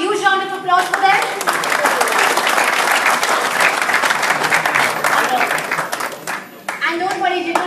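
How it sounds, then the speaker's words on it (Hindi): An audience gives award winners a loud, sustained round of applause, dense clapping lasting several seconds, with a voice speaking at the start and end over the clapping. "Please, can I have a huge round of applause for them?"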